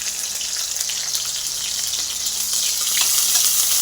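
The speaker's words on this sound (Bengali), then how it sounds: "তো কড়াইতে আমি তেল দিয়ে দিলাম আর কালো জিরা দিয়ে দিলাম আর কিছুটা পেঁয়াজ দিয়ে দেবো ফোড়ন।" Onion and black cumin seeds fry in hot oil in a wok, giving a steady, dense sizzle with fine crackles that swells slightly louder toward the end, close and continuous with no talking.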